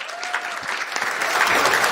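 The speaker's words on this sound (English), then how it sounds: "So let's give them a round of applause for their support." Audience applause at an investment summit finale, welcoming the evening's venue sponsor; dense, steady clapping from a room of people that swells slightly toward the end, with a faint tonal whistle early on.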